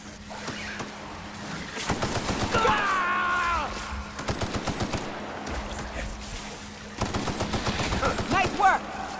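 Gunfire from The Outer Worlds video game: bursts of rapid shots and sustained firing recur across the clip, loud and close, with a musical tone and game effects underneath and a brief voice.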